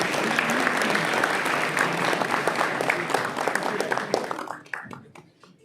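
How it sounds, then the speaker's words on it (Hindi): A large audience applauds in a hall to welcome a guest at a formal gathering, dense continuous clapping that holds steady for several seconds and then thins out into scattered last claps. "तालियों के द्वारा उनका स्वागत अभिनंदन करें"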